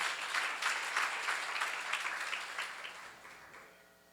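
Applause from a church seminar congregation, steady and fairly loud for about four seconds before thinning out at the end.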